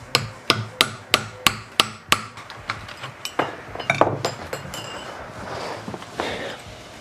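A locking cover being knocked out of a BMW E92 differential: a run of sharp, evenly spaced metallic hammer blows up close, then looser irregular clinks and knocks.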